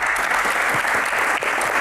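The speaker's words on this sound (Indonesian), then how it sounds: "Tepuk tangan" Audience clapping during a live Q&A session with Armand, a brief steady burst of dense applause filling the room without speech.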